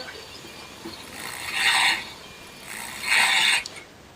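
A sewing machine stitches the seam of palazzo pants in two short bursts of fast mechanical whirring, each under a second long, with quiet pauses around them.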